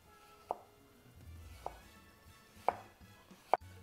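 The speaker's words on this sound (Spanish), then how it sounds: "La cebolla nada más la voy a cortar yo así como en julianas." A knife chops an onion into julienne strips on a board: four separate, sharp taps at uneven intervals against a quiet background, with no talking.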